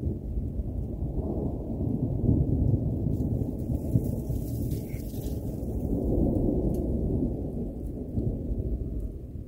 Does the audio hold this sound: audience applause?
no